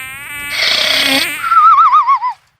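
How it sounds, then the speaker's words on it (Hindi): Flies buzz close by around a sleeping man's mouth and nose, a loud continuous droning whine with wavering pitch that rises and falls before cutting off. "5-7 मक्खियां मुंह और नाक पर बैठी हुई भिनभिना रही थीं"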